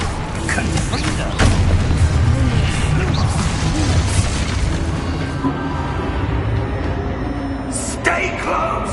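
The Confringo explosion spell from a Harry Potter video game sounds as a loud, sustained booming blast with heavy low rumble and crackling debris. Game ambience plays throughout.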